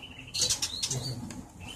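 Magpie robins in an aviary at a bird farm beat their wings in a quick, close flurry of flapping lasting under two seconds, with faint chirps in the background.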